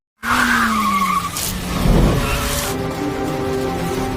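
Car tires squeal in a sharp skid in a film scene, loud and close, sliding into a sustained engine drone.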